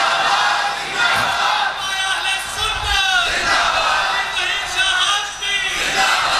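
A crowd at a religious sermon gathering shouts a slogan back in unison, loud surging cheers and chants in repeated bursts with short dips between them.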